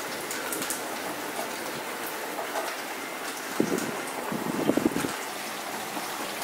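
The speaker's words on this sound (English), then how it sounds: "nice curtain of rain and wind." Steady storm rain hisses in a continuous wash with wind behind it, fairly faint and distant, with a couple of brief louder gusts near the end.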